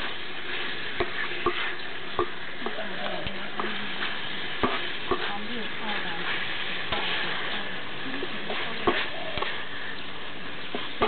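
Shrimp stir-fried with curry powder, onion and celery sizzles continuously in a pan while a spatula scrapes and taps in frequent sharp clicks, close and steady throughout, with a voice speaking briefly.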